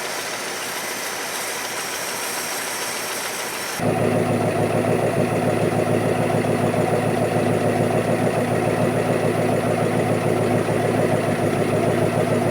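A 1964 Plymouth Barracuda engine rumbles steadily at idle, close and loud, with a constant low hum that begins after a few seconds of quieter noise.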